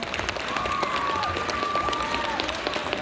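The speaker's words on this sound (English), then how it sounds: "Can we give her a huge round of applause?" A spelling bee audience applauds in a steady, dense wash of clapping, with a thin sustained tone running through the middle of it and faint voices mixed in.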